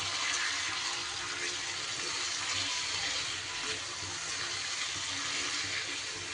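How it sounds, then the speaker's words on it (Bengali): Water from rinsing a bowl is poured into potatoes and pointed gourd cooking in a pan for a potol korma, making a continuous close hiss and splash for several seconds. "আলু পটলের সাথে সুন্দর করে বাটি ধোয়া জলটা দিয়ে দিলাম সামান্য।"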